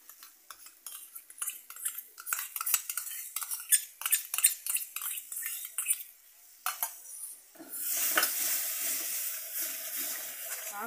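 Whisked sour yogurt goes into a cooking bhetki fish curry with cauliflower and potato. A spoon clinks and stirs repeatedly against the pot, then a louder, steady sizzle and hiss takes over near the end.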